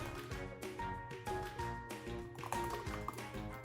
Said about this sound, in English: now I'll pour it into a little container